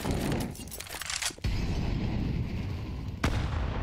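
A grenade explodes during a professional Counter-Strike match on the Anubis map, one loud, close blast with a brief dip and then a sustained rumble, followed by a second sharp burst near the end.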